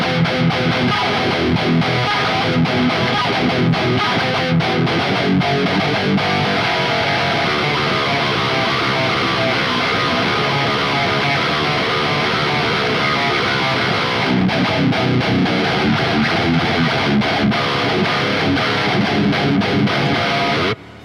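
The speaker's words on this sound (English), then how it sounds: "like really like distorted, like just crazily pushed guitar tones" Heavily distorted, high-gain electric guitar through the Archetype Gojira X plugin plays continuously at full volume, thick and saturated with dense chugging tones throughout.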